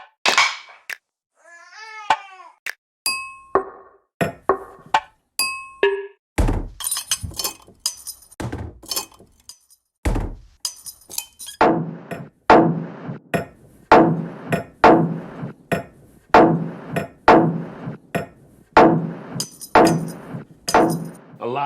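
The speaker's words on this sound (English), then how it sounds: "I banged on some pots and some pans and tweaked it a little to make it sound cool." Metal pots and pans are struck as percussion samples, sharp clanging and thunking hits played one by one and then in a steady, punchy rhythmic loop, loud and close.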